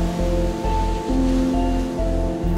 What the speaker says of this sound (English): the raging waves swallowed Pharaoh and his army